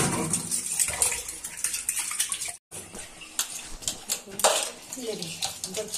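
Dishes are washed under a running tap in a home kitchen sink, with steady water flow, clinking utensils and intermittent clatter of pots over several seconds, while people talk nearby.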